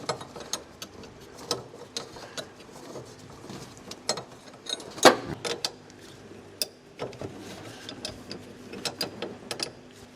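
A wrench clicks and scrapes while breaking loose a fitting beneath the washer fluid bottle of a 1976 Cadillac Eldorado, with irregular faint ratcheting ticks and metallic knocks throughout.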